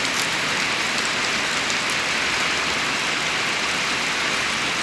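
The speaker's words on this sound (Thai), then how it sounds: "ฝนตก ฝนดี ปีนี้ฝนดีตั้งหัวปีดังนี้พี่น้อง" Steady, dense rain falling, a continuous broadband hiss with no gaps and no voices.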